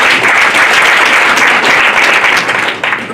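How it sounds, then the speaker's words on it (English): A loud, sustained round of applause from guests at a welfare association gala dinner, many hands clapping in a dense, even roar that thins slightly near the end. "I think they deserve a round of applause."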